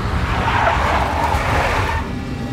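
A big black Mercedes' tires skid with a broad, rough hiss over low engine rumble in the video game Max Payne, loud and continuous before easing slightly at the end.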